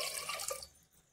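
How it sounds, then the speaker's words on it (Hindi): Water poured into a pressure cooker holding washed taro root (arbi) in a home kitchen, a short splashing, trickling pour that fades out after about half a second. "इसमें हम पानी डाल लेंगे"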